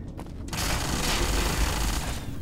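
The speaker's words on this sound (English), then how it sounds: "he's shooting me through that gap" Enemy gunfire in Fallout: New Vegas, a steady dense burst of shots and booms that fills the whole moment, loud and close with no pause.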